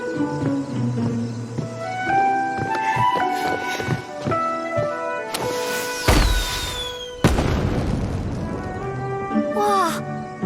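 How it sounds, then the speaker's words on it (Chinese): Homemade blue fireworks going off: a few loud bursts with crackle and a rising whistle over steady music, fairly close. "袁小六，你竟然会做蓝色的烟花"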